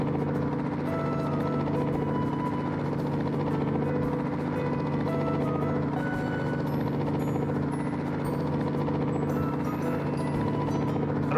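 A helicopter in High School Simulator, a video game, drones continuously with a steady rotor buzz and engine whine, loud and close throughout with no talk.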